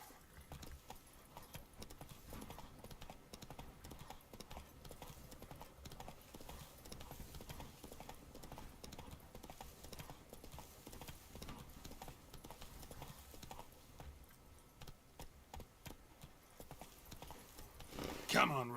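Roach, the horse in The Witcher 3, galloping with a continuous quick drumming of hooves that stays fairly quiet and close, holding its rhythm for the whole stretch and swelling slightly louder at the end.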